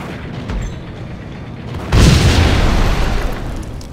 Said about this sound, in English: Best thing to do is maybe just try and shoot it with the Beretta quickly and then get out.